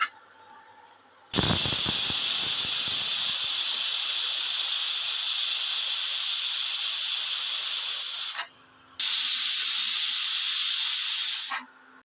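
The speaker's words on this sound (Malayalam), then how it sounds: "എന്നിട്ട് നമുക്ക് രണ്ട് വിസിലിൽ നമ്മളെ വമ്പയർ വേവിച്ചെടുക്കാം." A pressure cooker cooking cowpeas lets out a loud, steady, sustained steam whistle that runs close and alone for several seconds, drops out briefly, then resumes before cutting off.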